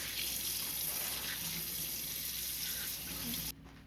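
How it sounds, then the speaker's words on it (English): Steady rush of running tap water in a sink while a live tilapia is rinsed, loud and continuous for several seconds before cutting off abruptly near the end. "And then I like to just wash it once. So rinsing it."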